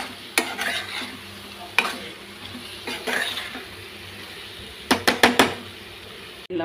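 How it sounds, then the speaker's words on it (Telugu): A pan of raw shrimp coconut curry is stirred with a utensil, giving scattered scrapes and taps and then a quick run of four or five knocks near the end, all over a low continuous sizzle. "కలుపుకుంటూ ఉండాలండి."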